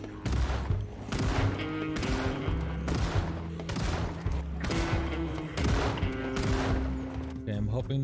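Gunfire in the zombie survival game Project Zomboid, with repeated rapid bursts of shots arriving in regular waves about once a second, loud and close, with a voice speaking faintly underneath.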